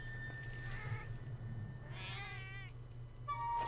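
A cat meows twice, fairly close, with rising and falling cries over a steady low background hum and a faint tone near the end.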